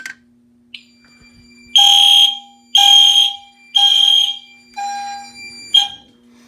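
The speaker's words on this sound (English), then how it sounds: "the alarms are going off" A building fire alarm system with two-stage operation sounds during a system test after a pull station is activated, blaring a series of loud, close horn blasts with short pauses between them, each carrying a steady electronic tone.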